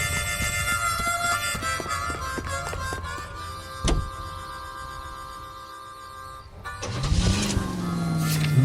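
Car driving in the video game L.A. Noire, a steady engine drone with a brief thump near the middle and a rising rev toward the end, under game music, with no talking.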